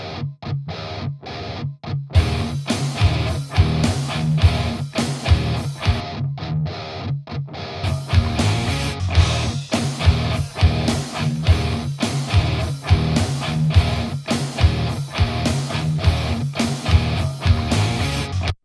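Heavily distorted electric guitar plays a chugging, grunge-style rhythm part with a dialed-in amp tone, loud and continuous, with brief pauses between chord stabs early on and no talking.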